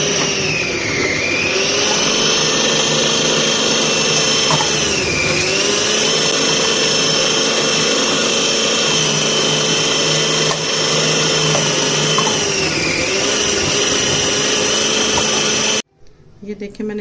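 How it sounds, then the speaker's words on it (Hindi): An electric chopper whirs loudly at close range while cutting ash gourd (petha) for halwa, its motor whine dipping briefly under load a few times before switching off abruptly near the end. "या मैं इसको चॉप करूंगी चॉपर में।"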